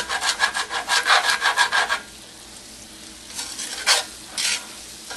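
A utensil scrapes browned bits rhythmically across a frying pan bottom in quick strokes while making Swiss steak, then pauses before a few more scattered scrapes, close and fairly loud.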